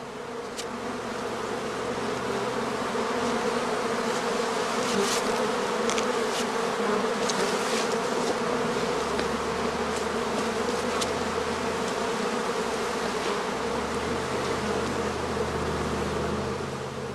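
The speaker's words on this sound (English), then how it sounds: "the bees in this skep have drawn their combs almost down as far as the shelf" A dense, steady drone of many honey bees buzzing close by at a straw skep hive, continuous and loud, with individual bees flitting past now and then.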